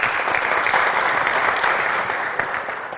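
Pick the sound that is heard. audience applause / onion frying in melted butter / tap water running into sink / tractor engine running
audience applause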